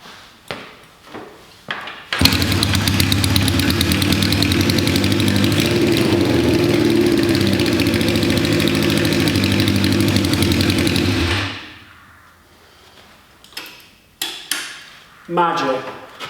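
An engine from an Urchfab build cranks briefly, catches and settles into a steady, loud idle running on all cylinders for several seconds, then shuts off, followed by a few clunks and scrapes.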